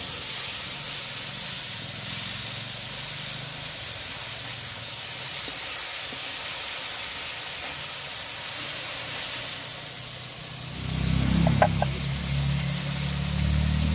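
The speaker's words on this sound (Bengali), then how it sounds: "শুকনো লঙ্কা ফোড়ন দিচ্ছি, দিয়ে সর্ষে জিরে কাঁচা লঙ্কা রসুন একসঙ্গে ভেজে নিয়ে তেলে করে দিয়ে দিচ্ছি।" Dried red chillies, mustard seeds, cumin, green chillies and garlic fry in hot oil with a continuous loud hiss and sizzle, which briefly surges and crackles near the end as more goes into the pan.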